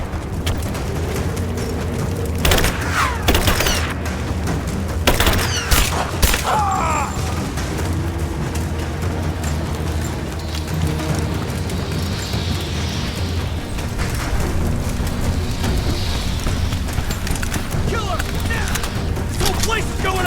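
In the video game Rise of the Tomb Raider, bursts of gunfire and heavy booms hit over a constant low rumble of battle, with scattered loud shots early on and quieter stretches later, while voices shout.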